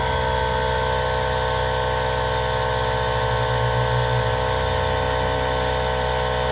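A small electric pump inflating a SunF Power II tire, a loud steady mechanical whine and drone running continuously with a slight shift in tone midway; no talking.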